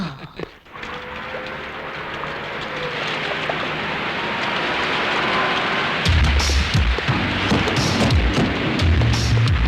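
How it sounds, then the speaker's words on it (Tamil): Rain falls steadily outside, a dense, even wash of close patter that thickens in the second half, mixed with indistinct knocks and rustles nearby. "வெளியே மழை பெய்யுது இல்ல"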